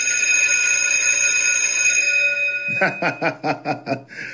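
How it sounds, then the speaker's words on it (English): A long ringing bell tone sustains and fades, then a rapid series of about six sharp metallic clangs follows in quick rhythm. "let me hit my bell"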